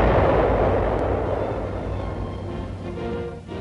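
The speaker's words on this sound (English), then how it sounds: "detonation of water or landmines can be accomplished by means of radio signals" A radio-detonated mine goes off in a 1947 wartime film, a single loud, heavy blast that rumbles and slowly decays over several seconds.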